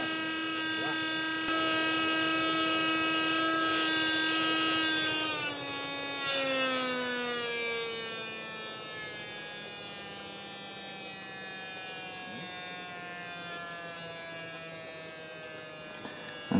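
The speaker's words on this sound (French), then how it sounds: "je baisse l'intensité du ventilateur et puis je la réaugmente pour éviter que le foyer refroidisse trop" A wood gasifier's blower fan gives a steady, loud electric whine that glides down in pitch and fades as the fan is turned down, then settles into a lower, quieter hum.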